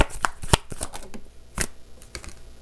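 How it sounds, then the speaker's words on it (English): Tarot cards being shuffled and drawn by hand, a close, crisp run of riffling flicks and soft slaps with uneven rhythm and no talk. "Let's grab 3 more cards here to wrap up this reading."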